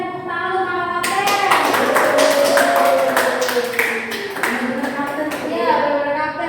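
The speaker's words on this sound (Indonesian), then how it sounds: "Tepuk tangan Mako Kapten." A classroom of children applauds a winning team with a dense burst of clapping that runs nearly throughout, loud and close, while voices call out and chatter over it.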